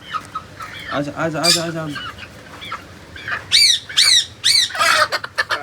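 Young chickens being caught to be released among the other hens, loud close squawks and shrill cries in quick bursts, while a man calls to them.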